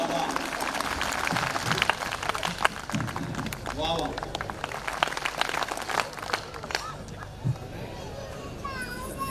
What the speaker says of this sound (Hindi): तालियां पूरे सदन की एक बार बज जाएं